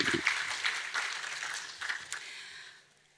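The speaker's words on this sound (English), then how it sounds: "Give her a round of applause, please." Graduation ceremony audience in a school hall claps for a prize winner, a fairly quiet spread of applause that fades out over a few seconds.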